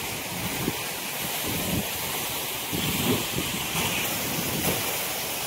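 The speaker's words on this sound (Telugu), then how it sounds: "ఆ సౌండ్ విన్నారా? ఆ వాటర్ సౌండ్ ఎంత బాగా అనిపించిందో నాకు." Water spilling over the brim of a full village pond gives a steady, close rushing wash, with wind buffeting the microphone and occasional soft surges throughout.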